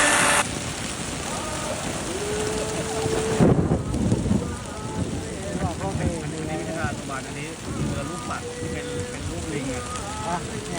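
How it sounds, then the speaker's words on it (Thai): Heavy rain pours down steadily with gusts of wind buffeting the microphone, while a person talks in Thai over the noise, at a riverside rehearsal of the Thai royal barge procession. "ทั้งลมทั้งฝนมากกว่าเดิมหนักขึ้นเรื่อยๆ"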